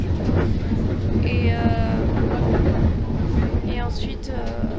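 A Paris RER suburban train runs with a steady low rumble and rhythmic rail clatter, brakes or wheels squealing briefly, as a voice talks over the noise.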